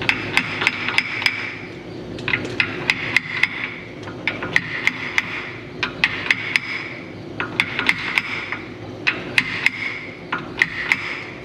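Repeated metal hammer strikes drive a part fitted with an O-ring into place in a truck repair shop, sharp close taps coming in quick clusters with short pauses between them.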